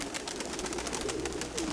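Pigeons kept in a backyard loft coo softly, a short low murmuring passage with faint clicks and rustles around it and no talking.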